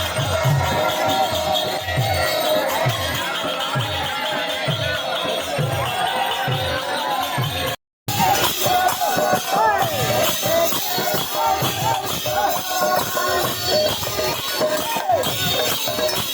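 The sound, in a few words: crowd of devotees gathering for prasad at chariot festival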